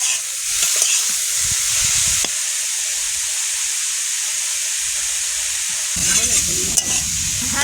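Parshe fish sizzling and frying in hot oil in a pan, a steady hiss throughout with occasional stirring scrapes and crackles, louder bursts near the end, and no talking.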